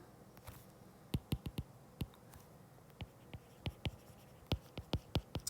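A pen writes out steps by hand on paper, giving close, sharp scratchy strokes and taps in an irregular rhythm over a quiet room, with no voices.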